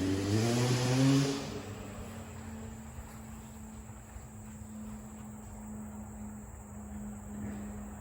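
A two-stroke dirt bike, a 1990 Suzuki RM125 running race gas, revs up loudly nearby and then pulls away down the road, fading to a distant drone with a faint steady whine over it.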